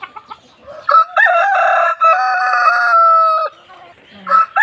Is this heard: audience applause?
no